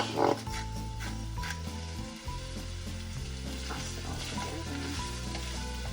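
Potatoes sizzle in a pan with bacon and onion, a steady close frying crackle broken by a few tossing and stirring knocks, with a low hum beneath.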